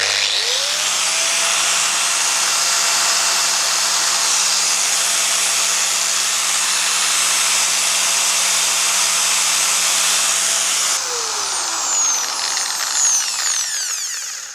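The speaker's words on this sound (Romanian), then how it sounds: "Flexul de 700 îl duce fără nicio problemă" A 700 W angle grinder running off an EcoFlow Delta 3 Max Plus power station in a camper gives a loud, steady high whine for about eleven seconds, then winds down as it spins to a stop.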